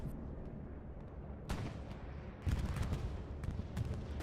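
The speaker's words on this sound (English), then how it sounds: "I hear a bombing run coming in hot" An aerial bombing run in the Hell Let Loose war game: rumbling background gunfire, then heavy, booming explosions hitting at intervals, growing louder and denser toward the end.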